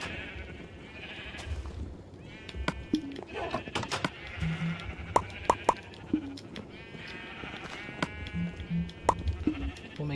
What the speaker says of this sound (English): Hopefully some more blue sheeps will be in there.